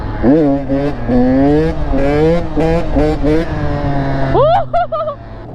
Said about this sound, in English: we're on a 85 KTM two-stroke